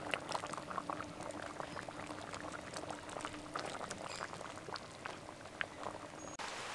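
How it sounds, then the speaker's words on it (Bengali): Elephant foot yam and potato boiling in a pot, a steady dense bubbling and popping close by, continuous through the whole stretch with no voices. "ওল আলু খুব ভালোভাবে সিদ্ধ হয়ে গেছে"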